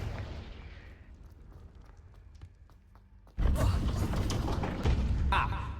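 A spell is cast in the Hogwarts Legacy video game: after a quieter stretch with faint mechanical clicks, a sudden loud fiery burst erupts and rumbles on for a couple of seconds, a voice heard briefly before it.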